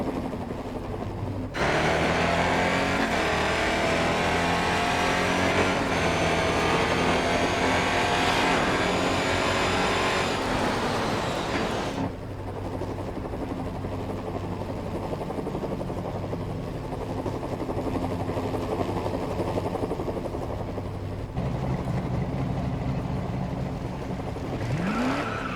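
In-car engine sound of a V8 Holden race car in Grid Autosport: a loud, continuous roar that climbs in pitch through the revs, breaks off as the car shifts, then settles into a lower drone that drops and builds again.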